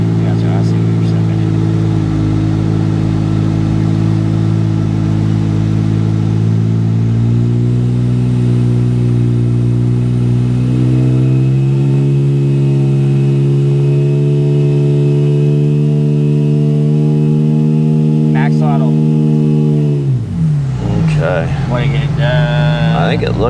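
A Porsche Cayman with a turbocharged 4.1-litre engine drones loudly on a dyno, its steady engine tone rising gradually in pitch before dropping off sharply near the end.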